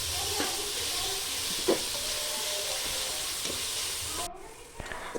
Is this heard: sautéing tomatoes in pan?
yes